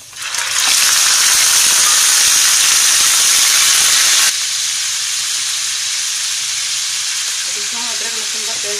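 Beef dropped into fried onions in a pot for haleem bursts into a loud, bright sizzle that settles into a steadier, slightly softer frying hiss partway through.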